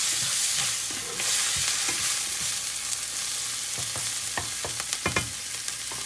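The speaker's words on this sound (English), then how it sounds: "Stir that up." Leftover fried rice stirred in a pan with salt and coriander-cumin powder, a spatula scraping and tapping in quick irregular strokes over a constant sizzle, close and without speech.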